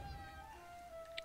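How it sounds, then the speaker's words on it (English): A cat in the video game Elder Scrolls Online gives one soft, drawn-out meow, faint and alone against quiet in-game ambience. "Meow. Come on, kitty."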